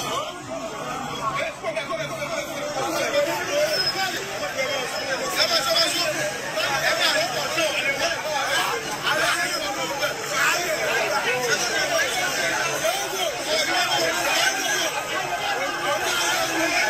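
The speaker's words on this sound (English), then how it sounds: "Did you see the crowd?" A large crowd chatters at a Yoruba nation rally, a dense, steady babble of many voices with occasional shouts rising out of the hubbub throughout.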